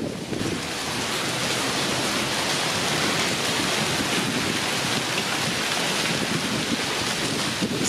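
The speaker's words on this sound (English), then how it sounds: "It's starting to hail." Dense, steady roar of hail and heavy rain pounding down during a supercell thunderstorm in Salina, Kansas, loud and continuous, with a broad hissing wash and low rumble throughout.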